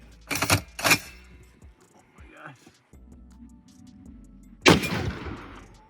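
Two sharp, loud rifle reports close together, then a quieter stretch with talking and another heavy blast near the end.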